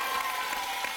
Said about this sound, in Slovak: Potlesk ešte raz pre víťazov 14-10.